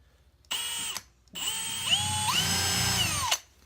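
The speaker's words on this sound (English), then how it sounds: "I'm going to drill the holes first while I'm able to hold on to this sucker" A power drill whirs in two bursts, the second longer with the motor pitch rising and dipping as it bores holes into wood, close and loud.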